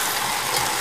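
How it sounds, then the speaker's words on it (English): Rice frying with celery and chicken in a pan, giving a steady, close hissing sizzle with a faint scraping texture and no voices. "You can hear that rice frying."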